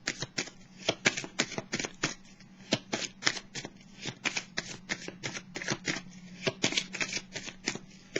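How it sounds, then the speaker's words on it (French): Tarot cards shuffled and drawn close up, a rapid series of crisp riffling flicks and slaps in uneven bursts over a faint low hum, with no talking. "Je vais piger une dernière carte ici."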